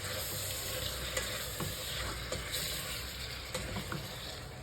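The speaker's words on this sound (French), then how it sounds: "Je vais remélanger. J'ai baissé le feu pour pas que mes épices ça brûle." Onions and spices frying in a pot for beef couscous, stirred with a utensil over lowered heat: a steady close sizzle with soft scraping strokes and small pops throughout, no voices.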